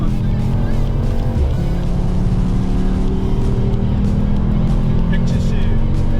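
Race car in a Korean F1-style driving experience accelerating at full throttle, a loud continuous engine roar with steady low harmonics and a brief dip near the start, filling the whole span under faint voices.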